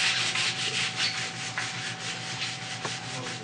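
A synthetic cork rubs wax onto a cross-country ski base in quick back-and-forth strokes, producing a steady, close, scratchy friction sound with no talking.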